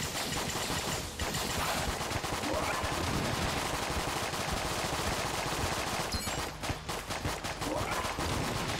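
Rapid gunfire and rocket blasts in the twin-stick shooter Enter the Gungeon, a dense, continuous barrage of loud shots with a few sharper explosive bursts near the end.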